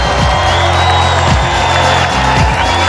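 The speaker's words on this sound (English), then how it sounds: "Plenty of Qataris in the crowd cheering on the members of the Qatar delegation" A large stadium crowd at the opening ceremony of the 2010 Asian Beach Games in Muscat cheers for the Qatar delegation, a loud, steady roar of voices with music and tones running underneath throughout.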